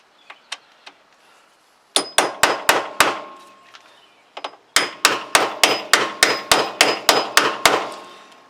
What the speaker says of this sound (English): take a hammer, hitting it, shocks the threads